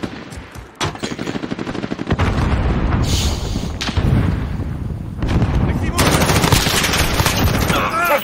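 Rapid gunfire in the video game Modern Warfare during a team deathmatch, sustained automatic bursts with sharp cracks and booms, loud and close, continuing almost without pause while a player talks over it.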